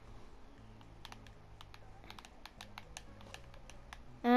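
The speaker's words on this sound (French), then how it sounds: "On tape le miroir." Light fingertip taps on a mirror come in quick irregular bursts of sharp clicks, close and fairly quiet over a soft background hum, with a louder knock at the end.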